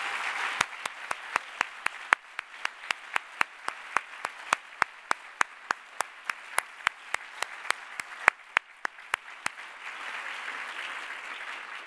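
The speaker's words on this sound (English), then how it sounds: "Give all of them a round of applause." Applause from an audience at an event's closing remarks: one sharp, steady clapper close by, beating at an even pace over a softer spread of clapping that tapers off near the end, with no talking.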